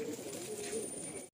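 Giribaj pigeons in a Kolkata loft coo softly in a short, low, warbling burst, close by and fairly faint.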